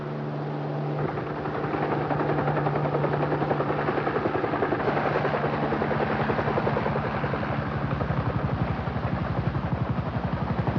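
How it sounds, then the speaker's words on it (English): A helicopter's steady rotor thumping and engine drone, growing slightly fuller as it draws nearer, with no talking. "approaching helicopter"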